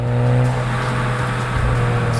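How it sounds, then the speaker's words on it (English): A 2025 Volkswagen Jetta GLI engine drones low and steady with a rising rev as it downshifts through the sport exhaust, heard from inside the moving car, a continuous rumble without speech. "it downshifts to give you that vroom vroom with the sport exhaust"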